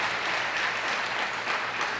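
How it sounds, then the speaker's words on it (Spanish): A conference audience gives a strong round of applause for fathers, dense and continuous clapping filling the room, loud and steady with no voices standing out. "démosles otro fuerte aplauso a los padres"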